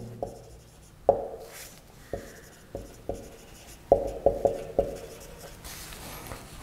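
Writing on a board during a class 12 physical chemistry lecture, heard as a series of sharp, separate taps and scrapes at irregular intervals, close and fairly quiet, with no talking.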